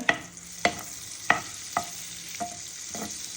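Five garlic cloves frying in melted butter in a pan, with a continuous close sizzle and a series of evenly spaced stirring clicks and scrapes, about six in a row.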